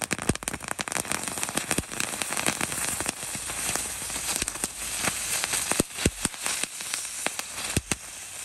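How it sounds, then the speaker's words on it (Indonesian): A full box of ground-spinning firecrackers (mercon gangsing) goes off at night during Ramadan, with rapid, irregular crackling pops and sharp bangs layered over a dense hissing fizz, loud and nearby throughout. "Dan ini penutupnya 2 kardus mercon gangsing guys."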